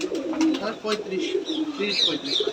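Soft, low coos of Giribaz pigeons at a pigeon farm repeat throughout alongside brief chirpy calls, with a faint voice murmuring in the background; the birds sound close and steady.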